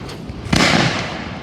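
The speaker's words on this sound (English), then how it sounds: "these are 4-inch shells" Four-inch firework shells burst loudly one after another, a sharp boom landing mid-clip and rolling into a sustained crackling roar that fills the air, following a softer earlier pop.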